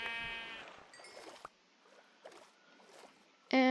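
Sheep bleats in the Minecraft video game: a short nasal bleat at the start, faint clicks and rustles in between, then a second, louder bleat cutting in at the end.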